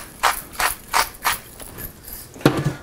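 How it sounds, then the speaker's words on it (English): A salt grinder twisted over olive-oil-drizzled ingredients before grilling on a Kamado Joe, giving five or six separate crisp ratcheting crunches in a steady rhythm, close and fairly loud, with no talk over them. "I'm gonna grind on just a little bit of salt"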